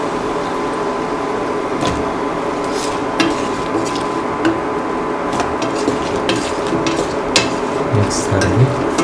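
Eggplant pieces being stirred as they fry in a pan give a steady, close sizzle with scattered scraping and clinking of the spoon against the pan throughout.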